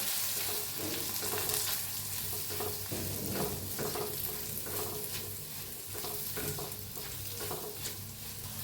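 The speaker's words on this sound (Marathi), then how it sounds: "1 मिनिटभर हलवून घेऊया." Green chillies fry with coriander and cumin powder in a pan, a continuous close sizzle broken by regular scraping strokes as the mixture is stirred.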